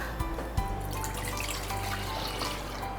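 Room-temperature milk pours steadily into a saucepan as a close, continuous liquid trickle, with a couple of soft knocks near the start.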